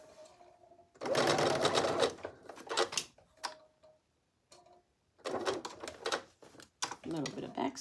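Home sewing machine running a short backstitch on a Simplicity 9745 bonnet pattern, with loud bursts of rapid mechanical stitching separated by pauses, close up and intermittently overlapping a person talking.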